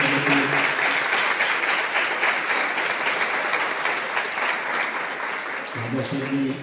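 An audience at a GMC-PTA interface meet applauds Nagar Saheb with dense, sustained clapping that fills the hall and fades slightly toward the end, where a voice briefly begins.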